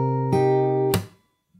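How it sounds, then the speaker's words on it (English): Acoustic fingerstyle guitar notes ring, then a single sharp percussive slap hits the strings and cuts the sound off, playing a song arrangement close up and clear. "you play that with a slap like this"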